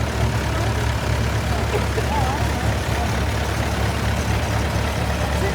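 A 1969 Case 430 diesel tractor with factory power steering runs in a steam and gas show parade, giving a loud, steady, low engine drone throughout, with voices mixed into the outdoor noise.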